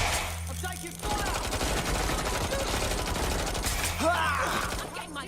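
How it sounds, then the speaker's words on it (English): Sustained gunfire in the video game Watch Dogs: Legion, a dense continuous burst of automatic fire lasting several seconds, loud and close, with a low hum underneath and no speech. "I'm taking fire!"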